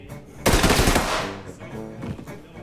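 A sudden loud burst of rapid automatic gunfire in the tactical shooter game Ready or Not, a dense rattle that lasts about a second, then decays with echoing tails.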